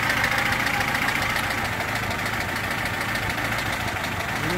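A VAZ 21011 car engine idles steadily after a head gasket replacement, with a constant close-up running note and a faint rapid tick throughout, with no talking.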